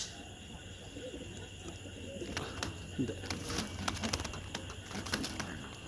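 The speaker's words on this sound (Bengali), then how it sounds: "একেবারে র রব্বানি লাইনের কবুতর" A Rabbani line male pigeon with a silver neck, kept in a small cage, coos in low repeated calls over a steady background hum, with faint voices and scattered clicks around it.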